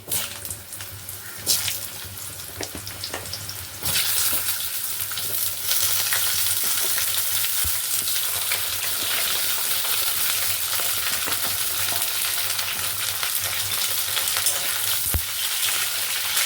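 Hard vegetables for an Indian dudh sabzi jalbora dish fry in a pan with steady, loud sizzling and occasional stirring scrapes, continuous throughout with no talk.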